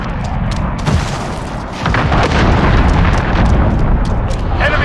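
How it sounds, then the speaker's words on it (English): A cruise missile explosion in the video game Call of Duty Modern Warfare, a loud, rumbling boom that swells and sustains for several seconds, thick with low-end roar and crackling debris. "Enemy cruise missile incoming!"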